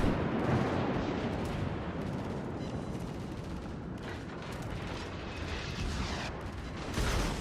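Naval gunfire from the Duca warship in the game World of Warships rolls as dense, booming salvos over a constant low rumble, loud and heavy throughout, with no voices.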